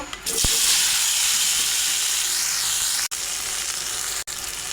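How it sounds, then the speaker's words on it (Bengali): Potatoes fry in oil already used for fish heads, making a loud, steady sizzle close by. A sharp tap sounds at the start, and two brief dropouts break the hiss. "একই তেলে আলুগুলো ভেজে নেব।"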